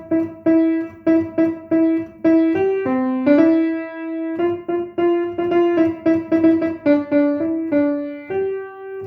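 Single piano notes pick out part of the Jingle Bells melody one finger at a time, some repeated in quick rhythm, others held, clear and close with no voices.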